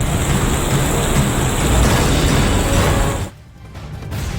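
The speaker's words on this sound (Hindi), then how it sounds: "हिमाचल प्रदेश में पहाड़ों पर लगातार बारिश हो रही है" Heavy monsoon rain pours in a dense, loud, continuous roar that cuts off abruptly near the end before a quieter wash returns.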